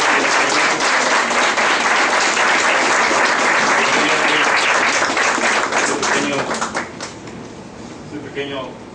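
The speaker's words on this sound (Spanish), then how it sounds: "Yo les pediría un aplauso para Fernando" A crowd gives loud, dense applause at a political party talk on party identity, a steady roar of many hands that holds, then thins and fades toward the end.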